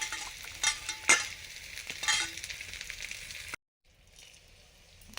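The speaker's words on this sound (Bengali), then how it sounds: "বেগুনগুলো ভাজা হয়ে গেছে" Eggplant frying in mustard oil, a bright crackling sizzle broken by a few stirring scrapes, which cuts off abruptly and returns faint and quiet near the end.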